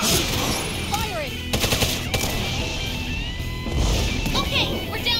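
Bursts of rapid gunfire and sharp shots in the tactics video game Persona 5 Tactica, loud and close over game music and effects, with character voices in between.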